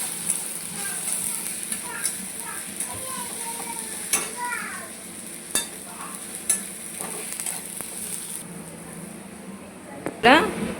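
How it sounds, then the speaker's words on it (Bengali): Bombay duck fish fries in a pan with chili, turmeric and salt, giving a soft steady sizzle with occasional stirring scrapes and clinks. Someone talks over it throughout. "এরপর আমি এটাকে আরও দু মিনিট ভালো করে ভেজে নেব"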